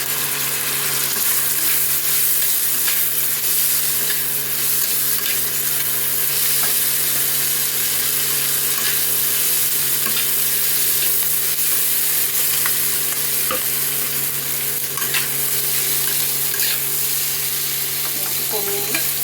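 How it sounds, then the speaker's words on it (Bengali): Chili pasta is stirred and fried in a hot pan with sauces and vinegar, a continuous sizzle with scraping stirs under a steady hum, close and even, no talk. "এখন এই পাস্তাগুলো আমি আস্তে আস্তে করে ছেড়ে দেবো"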